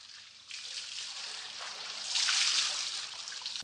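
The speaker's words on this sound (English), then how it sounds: "Adult men press the drenched books to drain the water." Water drains and trickles from drenched books pressed by men in a film scene, a hissy continuous splashing that grows louder midway, with no voices.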